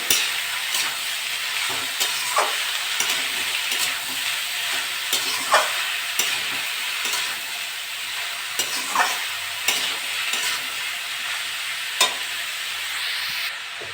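Chunks of bottle gourd and potato are stirred with fried prawns in a pan over a constant hissing sizzle, with a spatula scraping and knocking the metal in regular strokes roughly every second.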